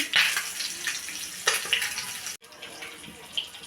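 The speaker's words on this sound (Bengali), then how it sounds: "ডিম লবণ হলুদ দিয়ে ভেজে নিচ্ছি।" Boiled, peeled eggs fry with salt and turmeric, giving a steady close hiss of sizzling oil that drops out briefly partway through and then resumes.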